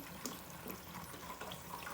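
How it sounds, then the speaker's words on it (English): Red cooking wine for beef poured into a pot roast, a faint, steady liquid trickle and splash running continuously with small spatters, fairly quiet and up close. "I'm going to pour some wine in here. This is cooking wine, red cooking wine for beef."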